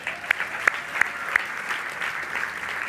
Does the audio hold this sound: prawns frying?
no